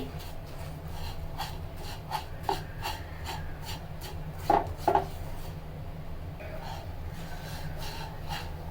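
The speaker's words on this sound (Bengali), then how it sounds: "ভালো করে নেড়ে চিনি এবং সেমাই মিশিয়ে নিচ্ছি।" Lachha semai vermicelli stirred together with sugar, making steady dry scraping and rubbing strokes over a low constant hum, with two louder scrapes midway and no talking.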